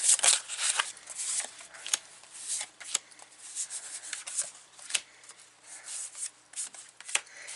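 Tarot cards being shuffled by hand up close, with quick papery riffles and rubbing bursts repeating in an uneven rhythm against quiet gaps, with no talking.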